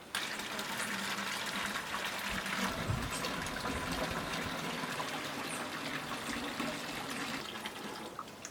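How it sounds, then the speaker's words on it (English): Watered-down urine pours onto a compost pile in a steady splashing, gushing stream that runs continuously, with a brief stronger surge partway through. "let's get some urine on there"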